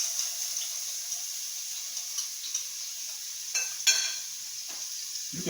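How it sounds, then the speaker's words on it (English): Salmon sautés in hot olive oil over low-to-medium heat, giving a faint, steady sizzle with a few soft clicks and scrapes of a utensil. "You want to let it saute a little bit, about a minute or less."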